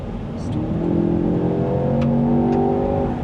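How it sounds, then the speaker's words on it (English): A 2025 Land Rover Defender OCTA's twin-turbo V8 revs hard through an open active exhaust, a loud, sustained throaty roar that rises and holds with a few sharp crackles. "you can hear that exhaust open up because we do have an open exhaust or an active exhaust"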